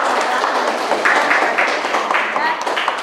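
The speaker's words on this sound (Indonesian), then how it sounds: "Kita berikan aplaus untuk teman-teman" Classroom applause for classmates during a school lesson, a dense, fairly loud patter of many hands clapping steadily for a few seconds, close and continuous.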